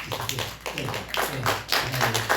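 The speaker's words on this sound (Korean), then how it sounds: "잠깐 일어나시면 박수로 환영하겠습니다." A church congregation claps in welcome for a visiting member's husband during a Sunday morning service, a brief burst of close, uneven hand claps.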